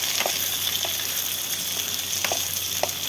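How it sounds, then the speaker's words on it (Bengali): Potatoes and pointed gourd fry in a pan with a dense, bright sizzle, broken by a few soft scraping strokes as they are stirred and mixed, close up with no voices. "আলু আর পটল আমি ভালো করে মিশিয়ে নিচ্ছি।"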